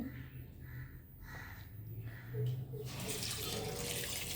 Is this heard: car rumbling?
no